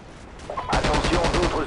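Rapid machine-gun fire in Call of Duty 4: Modern Warfare, a loud, steady burst of closely spaced shots after a brief quieter lead-in, with a voice faintly present underneath.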